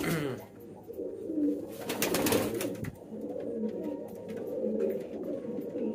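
Sirazi pigeons cooing in a loft, low repeated throaty coos rolling on close by, with a brief burst of wing flutter partway through.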